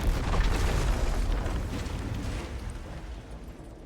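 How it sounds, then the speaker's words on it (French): A loud, rumbling explosion in the video game 007 with a heavy low-end boom that slowly fades over a few seconds. "Survivre à l'explosion, ok, bah oui."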